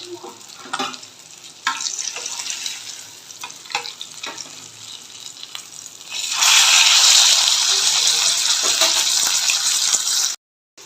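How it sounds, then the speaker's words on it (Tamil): Fish fries in a pan with crackling sizzle and spoon scrapes, then a sudden loud, broad hissing rush takes over for several seconds before cutting off abruptly. "இதே மாதிரி எல்லாம் ஃப்ரை பண்ணி எடுத்துக்கலாம்"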